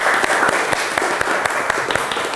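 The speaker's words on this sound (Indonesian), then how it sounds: "kasih aplaus dulu." An audience applauds a winning group at a television drama scriptwriting workshop, a steady wash of clapping with a few sharper individual claps standing out, with no talk over it.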